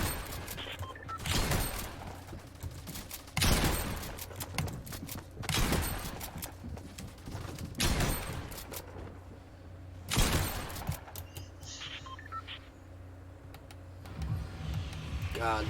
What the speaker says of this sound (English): those pump shots feel so nice when they hit for the 190